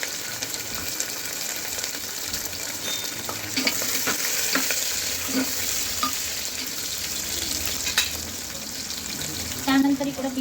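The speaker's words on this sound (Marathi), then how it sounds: "कांदा भाजून घेणार आहे।" Onion frying in a pan after drumsticks have been added for masala rice, with a steady close sizzle and repeated scraping and clinking as a utensil stirs the pan.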